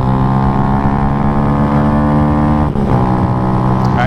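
A Yamaha Y15ZR motorcycle climbs a hill on a country road, its engine droning loud and steady with a brief dip before pulling on again.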